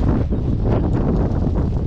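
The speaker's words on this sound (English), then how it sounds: "it's a bit too cold, wet and windy" Strong cold, wet wind buffeting the microphone at a marina in a continuous low roar, gusting slightly, with no other sounds standing out.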